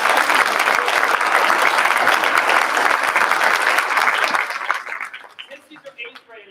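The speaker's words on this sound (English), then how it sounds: "let's give them a round of applause" Dense, loud audience applause for an eighth grade choir at a school concert, sustained and even before quickly dying away, with a voice starting to talk as it fades.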